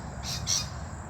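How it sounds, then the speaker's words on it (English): Rainbow lorikeets call from trackside trees east of Melbourne, Victoria, giving two short shrill squawks over low background rumble. "noisy birds in the background, rainbow lorikeets"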